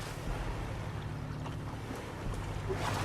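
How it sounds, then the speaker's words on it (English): Raft paddling in the survival video game Stranded Deep, low splashing strokes over a steady water and wind bed, fairly quiet and continuous with faint voice in the background. "I will notice, though, that the paddling sounds are quite a bit lower"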